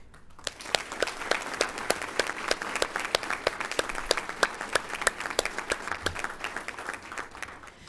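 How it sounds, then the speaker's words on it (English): Applause from a crowd, steady and fairly faint, a dense patter of claps that keeps going without swelling or fading. "Let's give them another round of applause."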